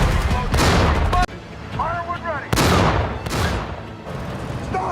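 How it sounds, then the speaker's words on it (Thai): Bursts of rapid tank machine-gun fire in a war film crackle in loud, broadband volleys, with short gaps and a brief voice-like tone between them. "เมื่อเห็นการยิงปืนกลจากรถถังไปยังทหารราบของฝ่ายตรงข้าม"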